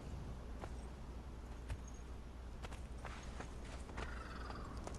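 Hooves of a solid black horse clip-clop steadily at walking pace in the video game Conan Exiles, with a brief whinny, set against a constant low ambient hum.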